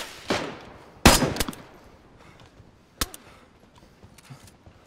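Gunfire in DayZ at a train station: a few sharp shots crack out at irregular intervals, one close, loud double burst followed by fainter distant reports and echoes, with no voices.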